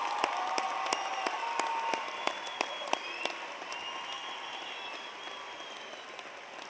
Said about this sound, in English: Please join me in another round of applause for our great students.